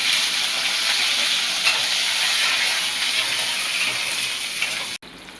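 Small shallots fry in sesame oil, a loud, close and steady sizzling hiss that stops abruptly near the end before a quieter sizzle resumes.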